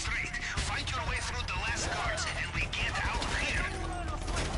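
Gunfire in a video game about robbing an island: dense, continuous bursts of shots and rapid automatic fire crackle loudly without a break, with voices mixed in underneath.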